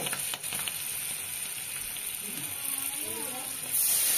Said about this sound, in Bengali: বেশ কাঁচা লঙ্কা ভাজা ভাজা হচ্ছে